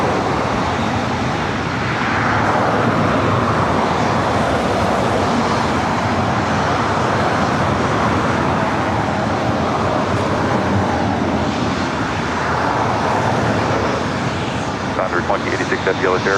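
An Air Tahiti Nui Boeing 787-9 Dreamliner takes off from the north side at LAX. Its engines give a loud, steady roar that swells and holds across the whole stretch, mixed with a broad rushing noise and faint traffic.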